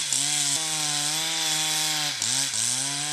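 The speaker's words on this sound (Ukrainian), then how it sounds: "чують звуки бензопил" Chainsaws cut trees in a forest near a dacha cooperative. One saw sounds close and drones steadily, its pitch dipping briefly twice as it bites into wood. There is no talking.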